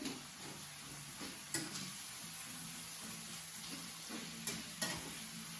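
Chili paste sautéing in a pan gives a steady close sizzle with a few scraping stirs and sharp clinks over about five seconds, and no one speaks.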